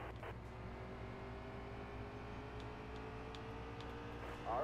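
A race car engine drones steadily in NASCAR Heat 3 at Bristol, a continuous high mechanical whine with faint passing cars and no talk.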